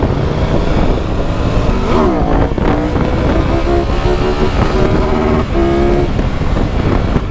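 A 2022 Triumph Tiger 1200 with its T-Plane three-cylinder engine riding on an open road, a loud continuous engine drone with rising and falling revs through gear changes, mixed with heavy wind rush.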